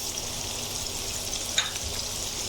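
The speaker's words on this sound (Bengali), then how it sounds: "আমি ওই তেলেই পেঁয়াজগুলো দিয়ে দিচ্ছি।" Chopped onion sizzles in hot oil in a pan, a steady soft crackle and hiss throughout, with a single brief stirring clink partway through, quiet and with no talking.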